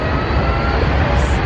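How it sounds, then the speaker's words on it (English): A train rumbles steadily at a station in Italy, a dense, continuous roar of rolling stock that fills the short moment, with no voices over it. "now we just got off the train and are visiting the town"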